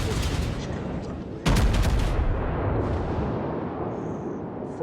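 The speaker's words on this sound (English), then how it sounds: "Those are 14-inch guns, I" Heavy 14-inch battleship guns fire in a naval video game, a loud booming salvo hitting sharply around the midpoint and rolling on with sustained rumble, amid fainter earlier gunfire.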